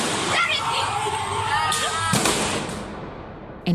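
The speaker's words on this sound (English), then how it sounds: "As police truck 17 drives past, we hear a gunshot." A single sharp gunshot cracks out as a police truck drives past, over a noisy outdoor scene with engine rumble and people talking nearby.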